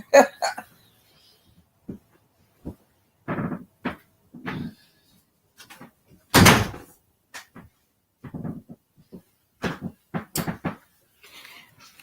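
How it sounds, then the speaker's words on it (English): A door swings shut indoors with one sharp, loud thud in the middle, surrounded by scattered small knocks and bumps in an otherwise quiet room. "Let me close this door"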